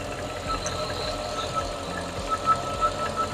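A Mercedes engine fitted with a Weistec kit runs steadily at idle with a low, even rumble and faint knocking, close by and continuous throughout.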